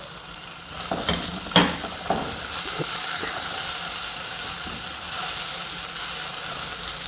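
Onion strips and bell pepper frying in a pan, giving a steady loud sizzle and hiss with a few scraping stirs and clatters near the start, and no voices.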